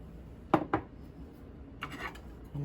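Dry shortcake mix of cake flour, salt and sugar being stirred in a bowl: a few sharp scraping clinks of a utensil against the bowl, then softer rubbing strokes, close and fairly quiet with no talking.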